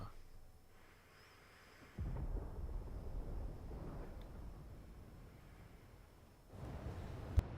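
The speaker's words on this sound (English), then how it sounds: "Sounds like thunder." Deep rolling thunder in the video game Final Fantasy XVI, a low rumble that swells suddenly and lingers for several seconds, then returns with a sharp crack near the end, fairly faint and far off.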